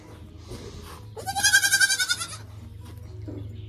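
A goat gives a loud, wavering bleat of about a second close by, with low background hum and faint voices.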